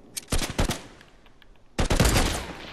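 Fortnite gunfire: two loud, rapid automatic bursts from an in-game weapon, separated by a short quiet gap, with no talking.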